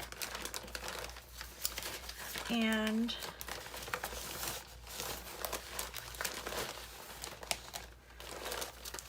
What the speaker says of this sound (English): So I have my scrap paper right here